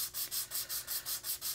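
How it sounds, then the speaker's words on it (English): Sandpaper rubbed by hand over a small plastic part of a 1974 Ford Econoline van model kit, about eight even back-and-forth strokes in a quick steady rhythm, close and clear, with no talking. "I'll just take a little bit of the sanding paper very carefully and just level it out a little bit"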